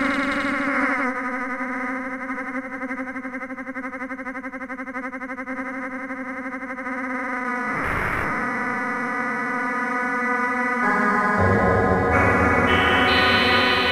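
Granular engine of a Waldorf Iridium synthesizer keyboard plays a sustained, richly layered tone that shifts in timbre, with a swelling sweep midway and brighter, stepping textures near the end. It is heard alone, with no talking.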